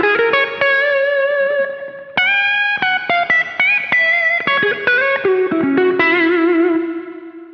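Electric guitar running through an ART SGE multi-FX rack unit on the Blues Hall preset, picked single notes and bends ringing out with chorus, echo and big hall reverb, a short pause midway and a fading final note, with no voices.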